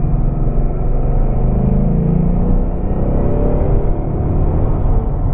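A Ford Mustang GT accelerates hard on a dry road with a dense, rumbling engine roar heard from inside the car, steady and loud throughout, with no voices.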